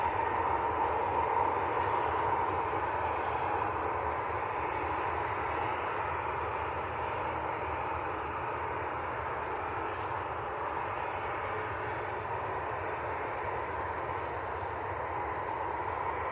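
A Eurowings airliner crosses the field at Manchester Airport for a runway 23L departure. Its jet roar is steady, broad and fairly faint, as if heard from a distance, with no voices.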